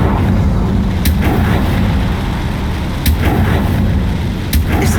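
Blasts of the Confringo fire spell in Hogwarts Legacy, three sharp cracks spaced roughly evenly over a loud, rumbling battle backdrop.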